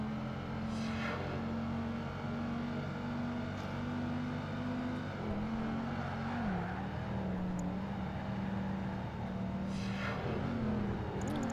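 Dodge race car engine in Project Gotham Racing 2, a steady loud drone holding pitch, then dipping and wavering around a corner before settling, with brief whooshes of passing cars and no talk.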